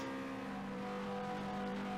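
Simulated car engine in an Unreal Engine Chaos Vehicle setup, a steady synthetic tone rising slightly as the throttle value shifts, with no talk over it.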